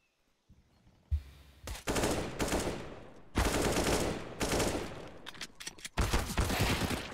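Rifle gunfire in Counter-Strike on the Inferno map, with loud, rapid automatic bursts and fusillades in several clusters separated by short pauses, close and dominant with no voices.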